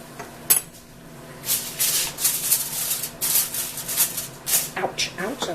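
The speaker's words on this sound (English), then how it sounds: "And we're just going to put a daub of butter and mix that in." Butter being mixed into roasted honey garlic ribs with metal utensils, a run of close scraping, clinking and rubbing against the pan, with a sharp knock near the start.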